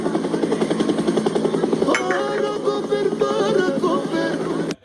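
A human voice imitates a helicopter, making a loud, steady, pulsing whir with a rhythmic beating quality that continues for nearly five seconds before cutting off abruptly.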